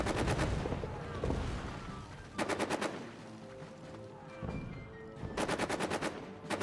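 Artillery and gunfire in the World War I trench video game All Quiet in the Trenches, with rapid bursts of machine-gun-like shots and heavier booms rumbling beneath, loud and repeated in clusters.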